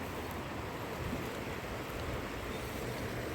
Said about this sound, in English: Just listen to the water burbling and bubbling